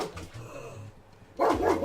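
A dog barks repeatedly at foxes outside, with a short run of barks, a pause, then a louder burst of barking near the end; a voice speaks faintly underneath.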